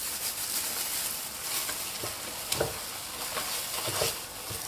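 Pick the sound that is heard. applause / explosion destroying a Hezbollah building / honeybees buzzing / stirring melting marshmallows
stirring melting marshmallows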